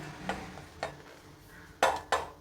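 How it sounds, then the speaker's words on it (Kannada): Chopped vegetables, including beans, being put into a bowl: a few light clinks and scrapes of a utensil against the bowl, the last two louder and close together, quiet and close. "ಈಗ ಇದನ್ನೆಲ್ಲ ಒಂದು ಬೌಲಲ್ಲಿ ಹಾಕ್ಕೊಳ್ತಾ ಇದ್ದೀನಿ"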